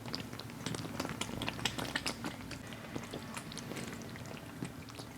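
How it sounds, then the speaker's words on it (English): Fermenting soy sauce mash bubbles from yeast activity: soft, constant bubbling and fizzing, many tiny pops crackling steadily and quietly at close range. "And that's the sound of the yeast breathing."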